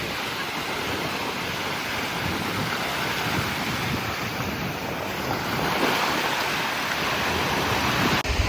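Ocean waves roll and wash at a surf spot off Lombok, a continuous broadband surf rush with wind buffeting the microphone, steady and fairly close, swelling slightly toward the end with no voices.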